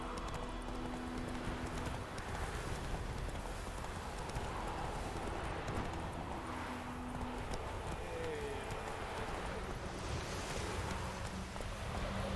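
Roach, a horse in The Witcher 3 video game, clops along in steady walking hoofbeats over a dense outdoor ambience, with a voice speaking briefly.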